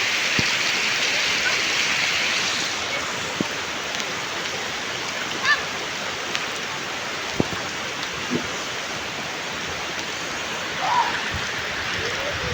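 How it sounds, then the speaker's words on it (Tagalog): Heavy storm rain pouring steadily by a river, a continuous dense wash of broadband noise with occasional louder splashes and drops, fairly close. "Lakas ng ulan. May bagyo kasi."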